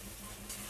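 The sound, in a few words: masala being sautéed and stirred in oil for coconut ghugni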